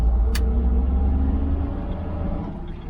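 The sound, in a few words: 1968 Jaguar E-type Series 1 engine while driving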